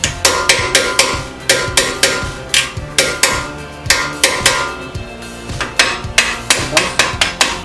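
Rapid, loud metallic hammer taps ring out in quick bursts while brake caliper pins are driven out during a brake change on a Maserati Ghibli SQ4.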